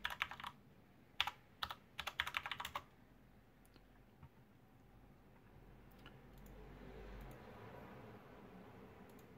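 Password keys tapped on a computer keyboard in a burst of quick, crisp clicks, a few separate presses then a rapid cluster, close by, followed by quieter room noise and faint handling.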